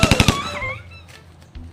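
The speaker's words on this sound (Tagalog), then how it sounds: "Takot kami sa baril, sir." A quick burst of four close, sharp gunshots cracks out in rapid succession, followed by a fading ring and a lone thud near the end, with no talk.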